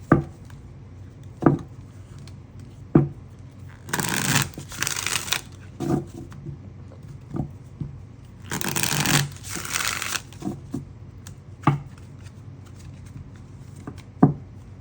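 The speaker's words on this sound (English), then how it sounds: "I shuffled one of these messages decks, but I didn't put the cards back in it." A deck of tarot cards is shuffled by hand in two long riffling bursts, with sharp taps and card slaps between them, close and fairly loud.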